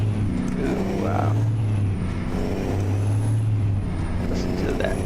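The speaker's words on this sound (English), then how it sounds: "Listen to that truck shift." A truck in a modded driving video game, heard with the windows rolled down, gives a loud, steady engine drone with gear shifts and an air-brake hiss, and a voice speaks over it.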